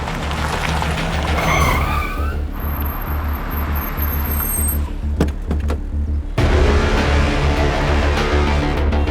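A car skids and brakes hard to a stop in a tense crime-drama scene, with a loud tyre screech and engine rumble, a door-like thud midway, then a steady low engine idle.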